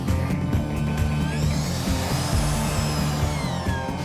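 A drill taps a hole in a piece of metal during industrial manufacturing, a continuous loud whirring grind with steady mechanical chatter and faint rising whines, no talk.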